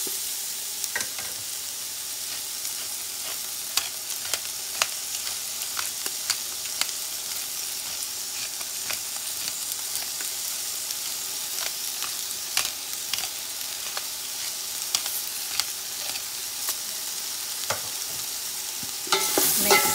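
Roughly chopped cabbage with black pepper stir-fries in a hot pan, a continuous close sizzle broken by frequent scraping and tossing clatters, with no talking.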